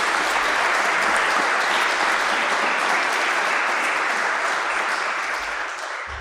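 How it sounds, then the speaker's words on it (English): A large audience at a Bible-versus-Qur'an debate gives sustained, dense applause that fills the hall evenly and fades slightly toward the end. "If you could also give him a round of applause."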